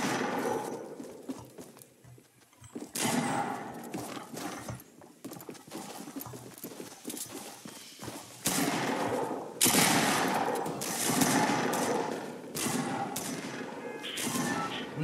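Fortnite Battle Royale gunfire crackles in dense bursts with scattered single shots and impacts, loud game audio running steadily with no speech.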